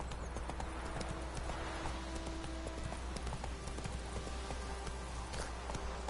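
Roach, Geralt's horse in The Witcher 3: Wild Hunt, galloping with steady, rapid hoof clip-clops over constant game background noise, fairly close, with no talking.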